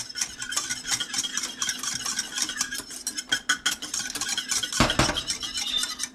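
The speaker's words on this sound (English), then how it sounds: "You keep whisking till it boils, till it gets thick." A whisk beating gravy in a pot for poutine, rapid continuous scraping and clinking of metal against the pot, steady and close with no talking.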